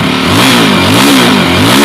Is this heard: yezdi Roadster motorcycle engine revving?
yes